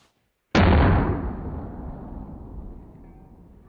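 A Rogue Arsenal flash bang detonates outdoors after a moment of silence: one sharp, very loud blast that rolls off into a long fading rumble and hiss.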